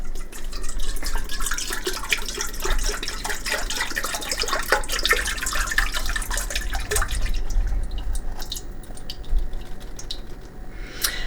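Liquid egg whites pour from a 16-ounce carton into a bowl while making twice-baked bread with protein flour, heard as a continuous close, wet splashing and trickling stream that thins out toward the end.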